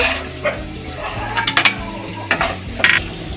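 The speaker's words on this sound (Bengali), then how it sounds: "তেল গরম হয়ে গেছে বড়িটাকে ভেজে নেব" Bori, Bengali lentil dumplings, frying in hot oil in a kadai, a constant crackling sizzle broken by sharp metallic clinks and scrapes of a utensil against the pan.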